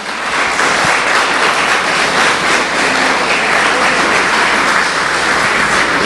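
A church congregation claps hands together continuously, a dense, loud wall of applause from many people that holds steady for the whole stretch.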